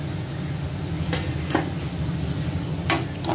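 Rice and beetroot are sautéed in a pan for pulao, a steady low sizzle with a few sharp scrapes and taps of a spoon against the pan.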